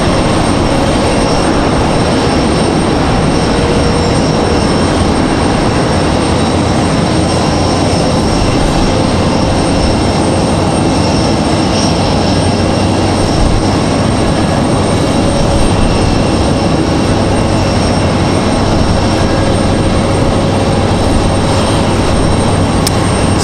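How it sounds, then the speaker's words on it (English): Boeing 767 jet engines roar steadily at Raleigh-Durham International Airport, a continuous loud broadband rumble with a sustained whine, unbroken and without talk. "Enjoy the sound of the 767s. Their engines sound so good on the 76s."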